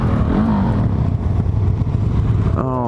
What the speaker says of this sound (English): This bike sounds good.